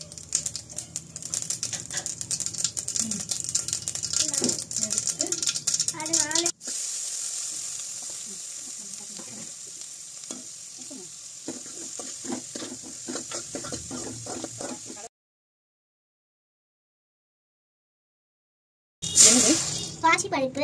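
Mustard seeds crackle and sizzle in hot oil for a spinach keerai poriyal. The dense frying hiss runs under voices talking, then drops to a softer sizzle with scattered pops before a brief silence.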